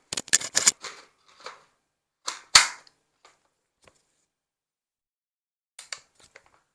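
Sharp mechanical clicks and clacks of a carbine being handled during home dry-fire practice come in short bursts, with one crisp louder snap of the trigger in between quiet pauses.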